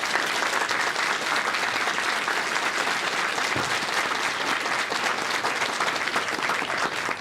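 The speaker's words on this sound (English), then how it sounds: "please give a round of applause for our panelists" A crowd applauds panelists at the close of a panel discussion, with continuous, even clapping that holds at a constant level throughout.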